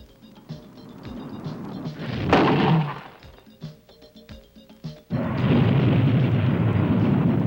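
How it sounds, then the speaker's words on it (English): A Peacekeeper ICBM launches from a modified Minuteman silo with mechanical clanks and ratcheting, a sudden loud roaring blast, then a sustained heavy rumbling roar that swells and holds. "This first silo launch has demonstrated the ability to successfully launch a Peacekeeper missile from a modified Minuteman silo"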